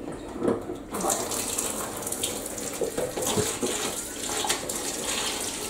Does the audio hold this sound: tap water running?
yes